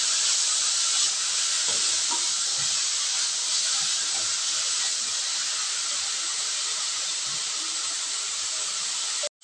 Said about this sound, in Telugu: కొద్దిగా కరివేపాకు, కర్రీ పెట్టుకున్న కొత్తిమీర, ఇవన్నిటిని కూడా మీడియం ఫ్లేమ్ మీద ఫ్రై చేసుకుందామండి